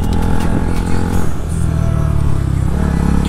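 A group of seven motorcycles, including a 250 cc BS4 bike, rides together on a Sunday outing, a loud, steady, close engine drone with low rumbling and no pauses.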